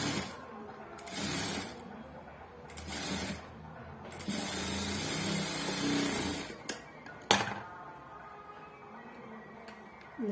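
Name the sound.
sewing machine stitching a blouse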